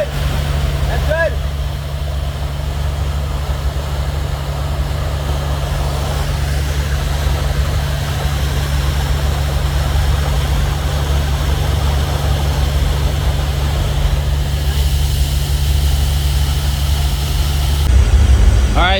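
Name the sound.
vacuum machine sucking up carbon media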